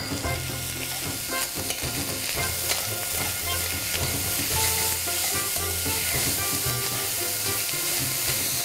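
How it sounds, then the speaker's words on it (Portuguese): Chopped onion and three cloves of minced garlic fry in a pan, giving a loud, dense, continuous sizzle with stirring throughout and no voices. "Agora a gente vai pôr então a cebola, uma cebola picada, vamos pôr o alho, 3 dentes de alho picados"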